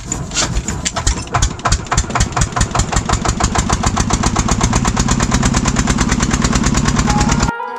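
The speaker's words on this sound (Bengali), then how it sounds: "উপর থেকে বাইকগুলো আবার এপারে আসবে।" Motorbike engines run at a river crossing near Bhabapur forest, a loud, steady, close rumble with rhythmic pulsing that stays constant for several seconds before cutting off abruptly.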